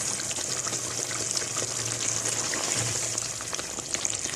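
Chicken karahi sautéed in a clay pot over a village-style fire, giving a loud, continuous wet sizzle and bubbling close by, steady throughout with small spits and crackles on top.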